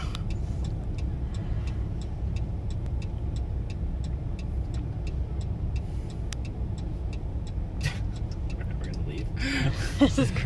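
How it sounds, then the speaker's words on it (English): New York City street traffic rumbles steadily nearby, a constant low drone of cars with a regular ticking, probably a turn signal, and a brief louder burst near the end. "I've never seen such traffic, such people, and such crazy driving in my life"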